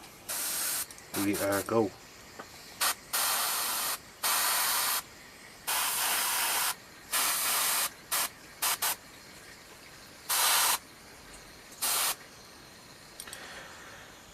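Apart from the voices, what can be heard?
airbrush test-spraying Vallejo Royal Purple paint at 20 PSI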